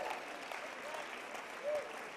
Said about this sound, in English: can we please give Glenn a round of applause